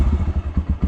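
Honda GB500 single-cylinder motorcycle idling up close, a loud, steady thumping pulse of regular low beats with slight mechanical clatter.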